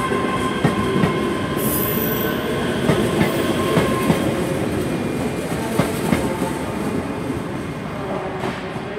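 A ScotRail class 385 electric multiple unit pulls out of Glasgow Queen Street on a service to Stirling, its wheels rumbling and clicking over rail joints with occasional squeals, a steady nearby roll lasting throughout with no talk.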